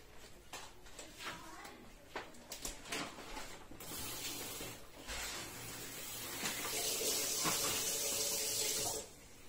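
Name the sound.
water being poured into a chicken tagine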